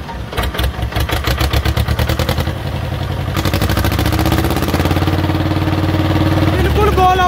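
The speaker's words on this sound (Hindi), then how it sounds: "कैसी आवाज बनी इस ट्रैक्टर की?" Tractor engine with a modified silencer running steadily, a rhythmic low thudding exhaust beat that starts choppy and settles into a dense, even drone, loud and close, with some background noise.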